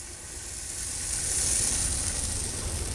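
Pancake batter, blueberry oat pancakes, sizzles steadily in a hot skillet, a continuous close hiss of frying that swells slightly and holds without talk.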